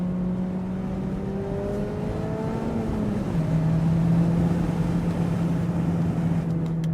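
A Mazda ND3 Miata on a warm-up lap around a race track, its engine holding a steady, close droning hum from inside the cabin, with the pitch dropping slightly partway through as the car shifts or eases off.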